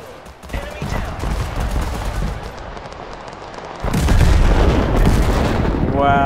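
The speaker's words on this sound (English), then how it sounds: "Wow, something blew up and it was mine." Battle noise erupts in the war game Total Conflict: Resistance, with continuous gunfire and rumbling booms that swell sharply into a louder explosive burst partway through, while a voice talks over the din.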